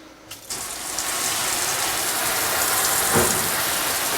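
Water runs hard into a sink while machine parts and blades are rinsed. A steady, close gush starts abruptly after a brief clunk and keeps going, with a splash shifting near the end.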